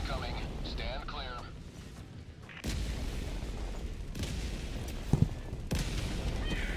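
An orbital barrage strikes in the video game Helldivers 2: several heavy, booming explosions land in succession, rumbling loudly over continuous battle noise while voices talk.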